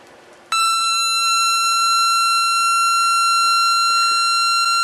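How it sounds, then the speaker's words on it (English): A 555 timer circuit drives a speaker with a steady, loud electronic tone that starts abruptly after a brief pause and holds unbroken, rich in harmonics, with no talking over it. "This circuit is producing an audible tone that you can clearly hear."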